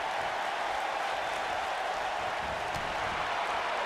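Arena crowd in a WWE 2K wrestling game cheers in a dense, constant roar of noise and applause, steady and fairly loud throughout, with no clear voices over it.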